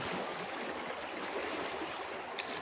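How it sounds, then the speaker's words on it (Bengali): Water rushing at a waterfall and spinning a boat on a boat ride, a steady broadband roar of flowing water, moderately loud and unbroken, with no talk over it. "এই যে পুরো জলের ফোর্সটা আসছে, এই যে এবার জলের ফোর্সে ঘুরবে বোটটা"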